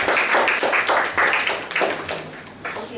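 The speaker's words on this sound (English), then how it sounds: "let's all give a round of applause for" Applause from a small audience after an evaluation speech at a speaking club meeting: several seconds of dense, uneven hand clapping that swells and tapers, fairly close and loud, with no voices over it.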